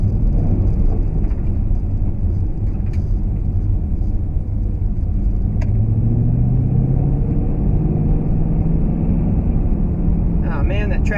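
A 2014 Shelby GT500 engine rumbles steadily at close range, its low drone rising in pitch midway through after a downshift, under continuous road and wind noise with a person talking.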